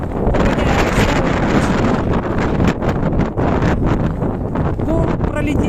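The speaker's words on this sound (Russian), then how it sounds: "Хороший такой ветерок." Strong blizzard wind above the Arctic Circle in Labytnangi roars as a continuous, loud, close rush of gusts battering the microphone for the whole stretch.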